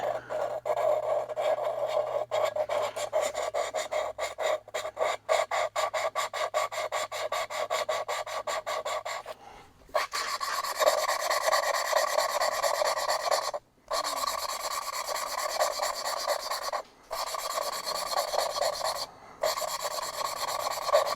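A drill spins an engine valve in its seat on a 1989 Freightliner cabover truck cylinder head, giving a steady, close rasping grind in long runs broken by brief stops, with no talking.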